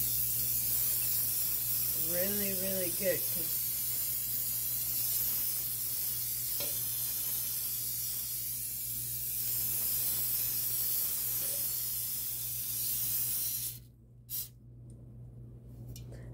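Cooking spray hisses into a bundt cake pan for a strawberry bundt cake, a steady close spray running through most of the clip, with a voice briefly speaking near the start and the hiss cutting off near the end.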